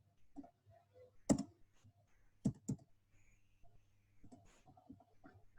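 Keys on a computer keyboard tapped in quiet, irregular bursts while a program is typed out, a few sharper clicks standing out over a low hum in a quiet room.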